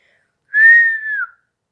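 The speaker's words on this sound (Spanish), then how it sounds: "Ejercicios con respiración silbante" One steady whistled tone blown as a breathing exercise for speech therapy, held about a second and sliding slightly downward at the end, clear and alone in silence.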